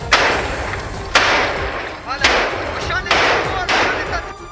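Gunfire during an Israeli army operation in Khan Younis: several loud, sharp reports about a second apart, each followed by a rumbling echo, with a voice faintly underneath.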